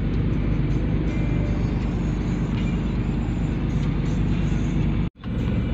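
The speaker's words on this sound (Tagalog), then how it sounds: "Traffic." Road traffic rolls steadily through Pasig, a dense, continuous roar of passing cars and heavier vehicles with no pause, until a brief sharp dropout near the end.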